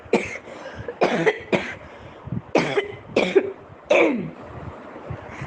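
A person coughs repeatedly in short, harsh bursts, close up, with brief pauses between fits and some throat clearing.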